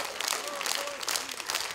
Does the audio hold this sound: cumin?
no